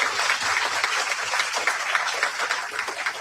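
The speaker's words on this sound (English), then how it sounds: "a round of applause for Janelle and Gary" Audience applause rings out for two presenters at a public talk on protecting Dominica's lands and rivers, a steady dense clapping that holds at even strength throughout without a break.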